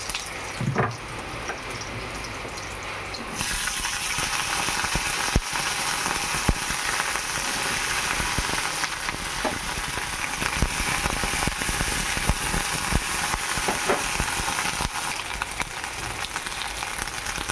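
Okra curry cooking in a pan gives a loud, steady crackling sizzle that fills the whole stretch, close and continuous with no talking.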